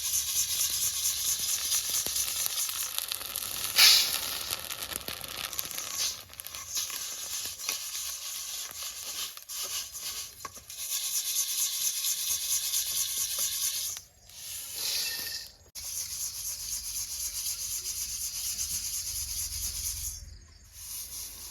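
Puffed rice tossed and roasted in hot salt without sand, a steady dry rustling sizzle with scraping stirs, continuous and close, dipping briefly a few times.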